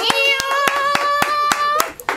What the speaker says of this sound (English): I round of applause.